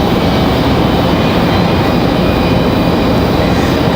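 A loud, steady jet rumble carries through from an American Airlines departure at Raleigh-Durham bound for DFW, a broadband roar holding constant from start to finish with no talking.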